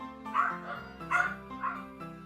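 Several pet dogs bark and yip excitedly in the background, a steady run of short repeated barks over game music.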